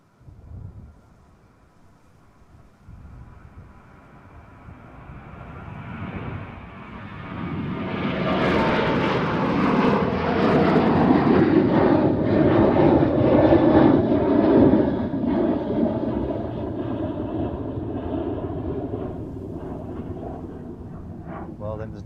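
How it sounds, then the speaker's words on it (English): An Icelandair Airbus A321neo jet takes off at Amsterdam Schiphol Airport, its engine roar swelling from a distant rumble into a loud, sustained thunder that slowly fades. "our new A321neo from Iceland Air to Reykjavik will take the same path"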